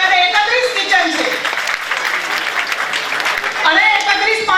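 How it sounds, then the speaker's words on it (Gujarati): Loud, steady applause from a large gathering at a community sacred-thread ceremony in Amreli fills the middle stretch, with a voice heard before and after the clapping. "જોરદાર તાળીઓ."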